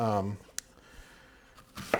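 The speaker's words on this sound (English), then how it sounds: "just chunking it up to where everything will fit nicely in the blender" A knife chops vegetables for a vegan-style chili on a cutting board, a few brisk close thunks following a brief hum, chunking pieces small enough for a blender.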